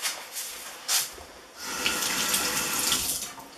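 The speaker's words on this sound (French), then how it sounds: "je me lave les mains" Hands are washed under a running tap before cooking, with a few brief splashes and then a steady, close rush of water pouring into the sink.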